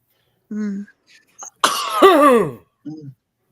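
A single sharp sneeze bursts out close by, framed by short murmured voices before and after.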